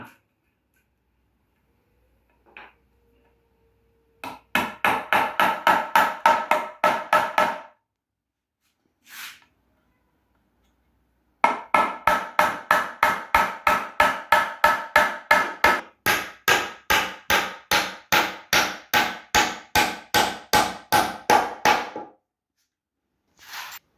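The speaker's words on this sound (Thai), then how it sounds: "เราก็ตะปูตอกใส่เข้าไปเลย" Nails driven with a hammer into wooden legs while building a simple wooden table: two long runs of fast, evenly spaced sharp knocks, loud and close, with a few single taps between them and no talk.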